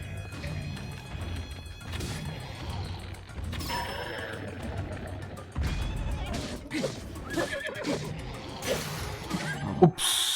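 A horse neighs in Zelda: Tears of the Kingdom, its whinny rising among busy game sounds, hoof clatter and impacts, with a sharp peak near the end; someone talks over parts of it.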